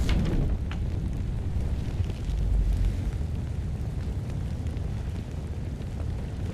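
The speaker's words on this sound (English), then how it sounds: "Yo, it's burning! Where'd the fire come from?" Fire burning in the video game REANIMAL, a continuous low roaring rumble with occasional crackles and pops, steady and fairly loud throughout with no talking.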